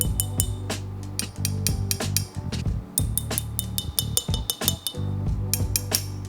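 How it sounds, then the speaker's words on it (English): Delicate glass teaware clinking and tapping during tea preparation, many sharp bright chinks in quick irregular succession, close and fairly loud with no talk. "listen to the difference in the glass sound"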